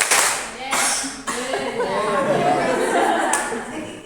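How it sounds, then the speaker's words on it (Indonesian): A group of adult trainees claps in unison on a count during a workshop, several broad synchronized claps separated by pauses, followed by mixed chatter and light laughter in the room. "Tepuk 5 kali."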